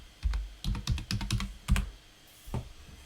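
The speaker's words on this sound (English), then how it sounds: "So we're going to type in browser." Quick bursts of typing on a computer keyboard while searching for a web browser on a Linux desktop, distinct close key clicks in a few short runs with a pause before a final pair of keystrokes, no talk.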